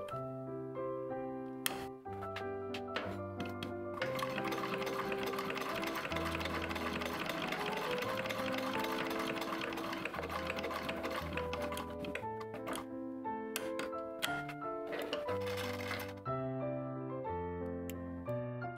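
A sewing machine stitches the waistband of an 1882-style walking skirt in long, fast, even runs of rapid mechanical clatter. Brief pauses break the runs, and background music plays throughout.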